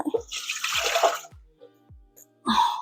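Two cups of warm water poured in a home kitchen for bread baking, a bursty splashing gush that stops, followed by small knocks and a brief second pour near the end.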